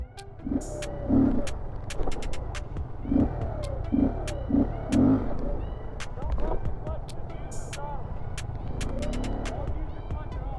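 Kawasaki Z125 and Honda Grom mini motorcycles rev their engines in bursts during a stunt session, a steady low rumble rising in short throttle blips while people talk over it nearby.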